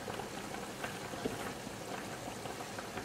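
Rice simmers in a pot with a soft, steady bubbling hiss, faint and even throughout with no talking.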